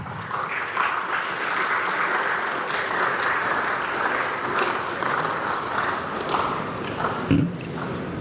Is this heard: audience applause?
yes